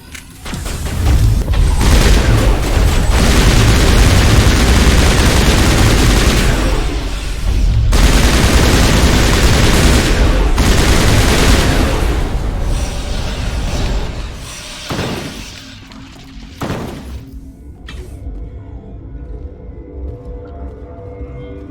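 Heavy gunfire in a sci-fi shooter firefight from Mass Effect, a dense, loud roar of overlapping shots and booms that holds for about fifteen seconds, then thins to scattered bursts and quieter background rumble.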